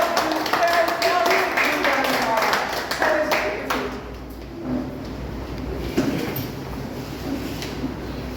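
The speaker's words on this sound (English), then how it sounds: "Let me have a round of applause for all of" A Toastmasters club audience at a meeting in East Delhi breaks into a dense round of applause that fades after about four seconds, leaving quieter room sounds with occasional taps.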